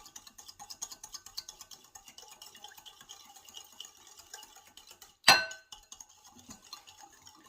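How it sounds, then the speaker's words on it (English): A spoon stirring salad dressing in a glass container to dissolve sugar, giving quick rhythmic light clinks and scrapes, with one sharp louder clink partway through. "I'm just going to keep stirring this to get all the sugar dissolved"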